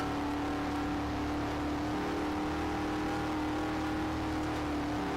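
Race cars engines drone steadily in a NASCAR racing video game, a continuous synthetic engine tone with layered harmonics holding at moderate level for the whole stretch, no voices over it.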